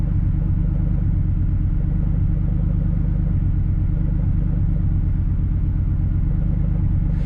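An old $500 red truck's engine idling after its first start of the spring following winter, a steady, loud, rhythmic rumble with even low firing pulses that holds throughout. A brief higher sound comes in at the very end.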